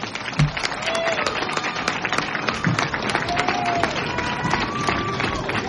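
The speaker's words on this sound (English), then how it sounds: "let's give them another round of applause" Sustained crowd applause at a Republican primary debate for Congressional District 19, steady and dense throughout with a few faint whistles or voices mixed in.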